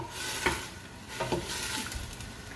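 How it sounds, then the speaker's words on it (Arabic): Onions fry with meat in a pot for a pea tajine, a close, steady sizzle broken by a few brief scraping stirs of a utensil. "البصل تتقلى مع اللحم تاعنا هكذا"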